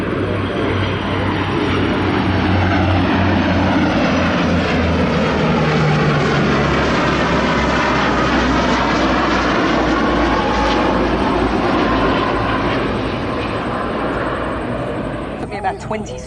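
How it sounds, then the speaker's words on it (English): Multiple Royal New Zealand Air Force aircraft, including a 757, C-130, Orion and Texan, make a loud, sustained left-to-right flypast at the Wings over Wairarapa airshow, with a steady roaring engine drone throughout and a faint voice underneath. "I'll go quiet for a bit so we can see these aircraft."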